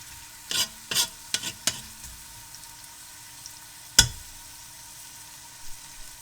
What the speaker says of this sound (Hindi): तो प्याज जो हैं अब हम इन्हें फ्राई कर लेते हैं।